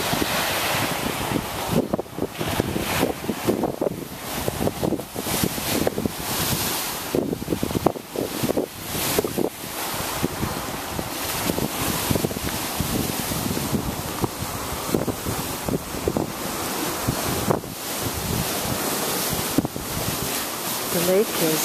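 Choppy waves wash continuously against the shore of Lake Nicaragua on Ometepe Island, with heavy wind buffeting the microphone throughout.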